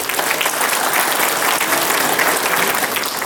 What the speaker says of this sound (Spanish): Por favor, un fuerte voto de aplausos.